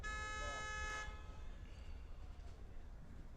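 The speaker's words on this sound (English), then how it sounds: "They were honking at me." A car horn honks in the distance near an outdoor side tennis court, sustained tones at the start and fading within about a second, with ambient noise continuing.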